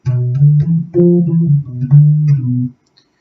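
A guitar with old, dirty strings plays a short phrase of plucked notes and chords, dull and muffled with little sparkle, then stops.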